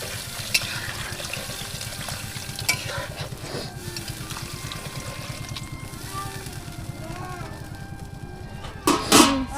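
Water going into a pot of spiced potatoes on a village clay stove, a continuous wet stirring and bubbling with occasional clinks, ending in a louder splash and scrape.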